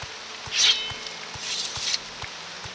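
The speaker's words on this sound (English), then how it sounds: "rain's really loud and it's covering up footsteps" Rain falling in the old PC role-playing game Morrowind with the Tamriel Rebuilt mod, a steady hissing patter at moderate loudness, with a few louder swells and faint rhythmic low thumps like footsteps beneath it.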